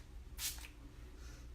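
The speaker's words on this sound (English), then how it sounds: "So this is our Stay Spray, and it's a setting spray. I'm gonna go ahead and spray myself" A bottle of coconut-scented makeup setting spray gives one short hiss of mist, a brief close burst followed by a fainter second puff in an otherwise quiet room.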